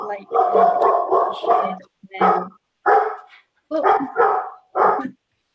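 A dog barks in a series of loud, close yaps and whiny barks in irregular bursts, heard during a council meeting on policy and resources.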